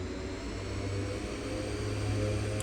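Airliner jet engines spool up to full takeoff power with brakes held in X-Plane 11, a steady, loud, dense roar with a low rumble, continuous and alone.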